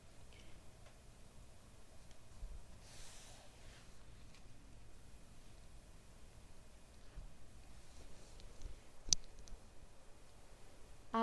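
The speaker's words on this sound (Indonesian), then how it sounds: "Nih, Mas Vicky lagi ngetik nih" Steady light clicking of computer keyboard typing runs throughout, faint and even in rhythm, with one sharper click near the end.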